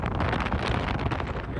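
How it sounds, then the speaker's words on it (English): Strong wind batters the microphone during a sandstorm at Glamis sand dunes, a loud continuous roaring buffet with no gaps, no voices. "It's windy."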